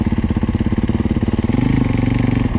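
A Yamaha YZ250F dirt bike engine and exhaust running loud and close, a rapid steady pulsing idle that rises slightly in pitch partway through, with no one talking.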